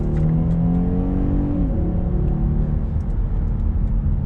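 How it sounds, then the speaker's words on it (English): A 2020 Genesis G90 Premium luxury sedan accelerates under throttle in a sporty drive mode, its engine droning loudly and steadily with a rising tone that shifts partway through, heard from inside the cabin without talk. "Let's go ahead and get on the throttle here"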